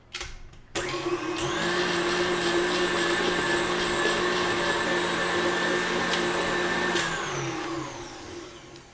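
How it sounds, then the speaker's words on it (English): An electric mixer runs at medium speed, beating batter for apple cider whoopie pies. It gives a steady, loud motorized whir that starts abruptly, holds evenly for about seven seconds, then winds down, with no talking. "Then you're gonna mix it on medium speed till it becomes nice and light and fluffy."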